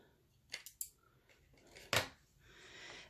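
Scissors snipping through a sheet of 12x12 paper: a couple of quick close cuts, then one louder, longer slice, with no talking.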